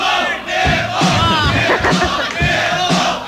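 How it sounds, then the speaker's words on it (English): A crowd at a live show from Schooner's chants loudly in unison, a close, rhythmic shout that rises and falls in repeated waves for a few seconds. "The crowd is chanting nipple to you."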